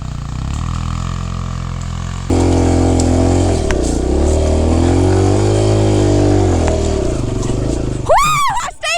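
A brand-new Kawasaki KLX140 dirt bike on a first ride, its engine droning near and loud, then rising in pitch as it revs and accelerates, ending with a brief squealing burst.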